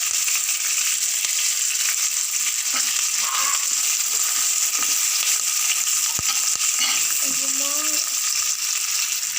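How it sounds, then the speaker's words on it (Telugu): Curry leaves drop into hot oil for tempering before okra is added, giving a loud, steady, close sizzle that crackles evenly throughout with no pauses and no voices. "తాలింపు కరేపాకు వేస్తున్నాను"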